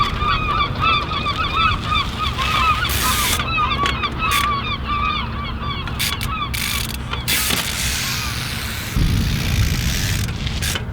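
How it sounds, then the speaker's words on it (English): Seagulls calling outdoors on a freezing cold day: many overlapping, repeated sharp cries over a constant low rumble, with a louder mechanical noise swelling near the end. "We've got seagulls over here."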